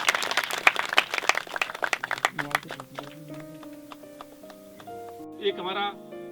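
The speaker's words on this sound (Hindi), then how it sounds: "जोरदार तालियां।" An audience at a student Yuva Sansad youth parliament event at CM Rise school, Surjanpur, bursts into loud, crisp clapping that thins out after a couple of seconds. Sustained tones and a voice follow.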